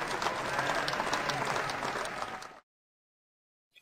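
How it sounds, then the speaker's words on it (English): Children clapping their hands during an English lesson for kids, a busy burst of many hands clapping for about two and a half seconds before cutting abruptly to silence. "Now clap your hands."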